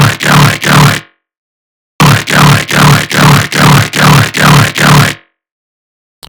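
Loud, gritty dubstep growl synth bass with a phaser on it, heard alone as a steady string of evenly spaced pulses. Two pulses come first, then a pause, then a longer run of six before it cuts off.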